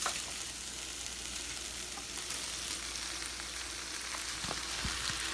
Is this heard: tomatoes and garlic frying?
yes